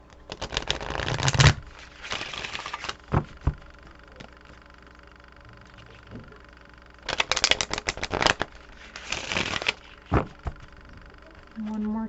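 A deck of inner child oracle cards is shuffled in two separate bursts of quick riffling and flicking, close and crisp, with quiet pauses between them.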